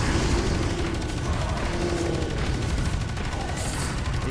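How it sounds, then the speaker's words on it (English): Sustained automatic gunfire in the multiplayer shooter Space Hulk: Deathwing, a dense, steady roar of rounds pouring out nonstop at close range for over four seconds, with no voices. "Putting rounds into his back."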